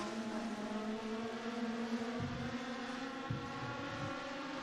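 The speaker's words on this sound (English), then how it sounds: "You've got cars all over the place as we go across the stripe." Short-track race cars in a Turkey Bowl heat thunder past at the stripe, several engines droning together at steady high pitch with layered harmonics, a couple of louder passes standing out, heard from a distance.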